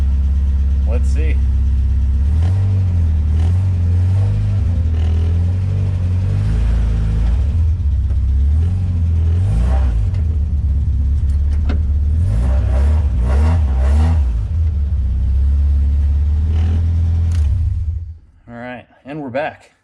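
A Mazda Miata engine runs loud and close as the car is driven in gear, holding a deep, steady rumble with rising and falling revs for most of the stretch before cutting off near the end.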